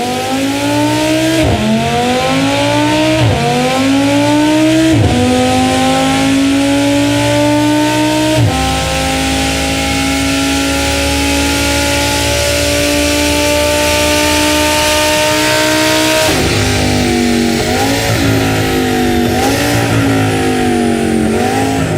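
Audi R8 V10 Plus in Need for Speed Rivals and Edge, loud engine climbing through several rising rev sweeps with quick gear shifts, a long sustained high-rpm pull, then more rapid shifts.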